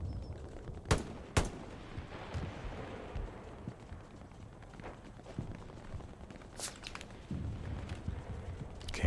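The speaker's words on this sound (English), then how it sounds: "Ran right in front of the MG." Gunfire in the World War II shooter game Hell Let Loose, with a few sharp, sparse bursts over a low rumble of battlefield noise and footsteps, fairly quiet and somewhat distant, no talking.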